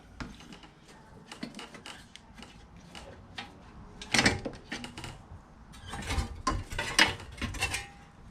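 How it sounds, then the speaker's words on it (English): A plastic shroud being pulled off a lawn mower engine gives a series of close clicks, rattles and clunks, with sharper knocks in the second half. "So let's take this off. Take the shroud off."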